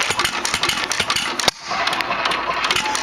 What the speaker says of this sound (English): The engine is relatively cold right now, so I'm warming up